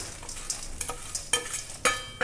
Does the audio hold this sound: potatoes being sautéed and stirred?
yes